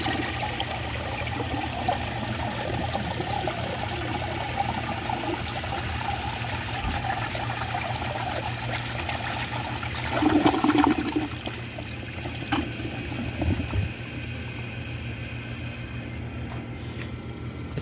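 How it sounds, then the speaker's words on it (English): A 1973 VHP toilet with a Kohler handle flushes, a steady close rush of water lasting many seconds with a louder gurgle midway, then tapering to a trickling refill. "So let's give it a flush and do some tests."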